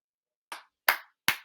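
Three sharp hand claps ring out alone, evenly spaced and close, the first slightly softer than the next two.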